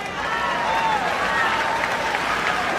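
A crowd at a Texas Democratic Party convention applauds and cheers loudly and continuously, with whistles and shouts rising over steady clapping.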